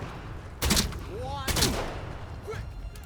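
Gunfight in the video game Atomfall, with two sharp bursts of gunfire close together and a fainter shot after them, over a short voice line.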